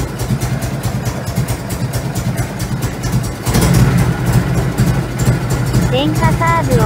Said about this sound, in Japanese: 三拍子っぽい感じの排気音になりますが、歯切れはあまり良くありません。